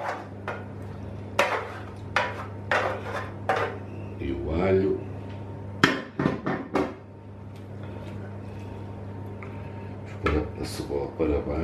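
Onion being scraped around a roasting pan of roast lamb, heard as a run of scraping and clattering metal knocks in bursts, with a person talking between and over them.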